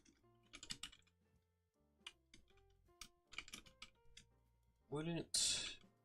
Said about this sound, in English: Typing this shit out.